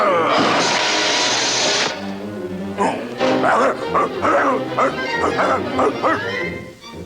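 A dog barks several times in short bursts at an electric lamp, mixed with voices and a brief hiss of noise at the start.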